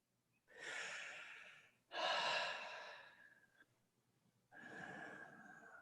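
Slow guided deep breathing up close, three long airy breaths with pauses between them, each swelling and fading softly, with no speech.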